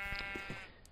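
A sheep in a video game bleats in a short, quavering cry, moderately close, with faint game background behind it and no talk over it.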